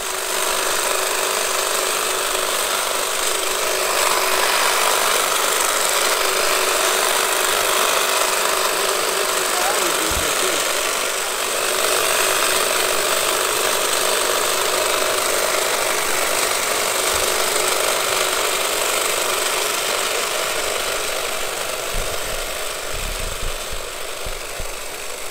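Steady, continuous drone of a power tool cutting back a hedge along a fence line, running without a break at a loud, even level for the whole stretch, with a few low thumps near the end.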